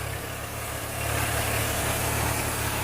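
A steady Kubota L4018 high-clearance tractor engine idles close by with a low, even rumble and faint mechanical vibration, holding constant throughout with no voices.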